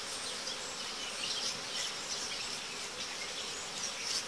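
Honey bees hum steadily at a hive with capped brood, giving a dense, continuous buzzing swarm close by with no talking.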